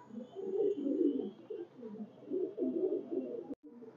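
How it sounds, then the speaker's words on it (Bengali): Highflyer pigeons coo in a loft, soft low throaty calls rolling in overlapping bursts, close and steady throughout, with a brief sharp knock near the end. "এই তিনটাই নাকটানা কবুতর এবং গোড়ার দিকের কবুতর।"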